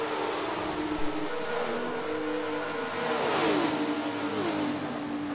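A prototype race car in a racing video game at Homestead, its engine note climbing through repeated upshifts, each gear rising in pitch then dropping, at a steady moderate level with no voices.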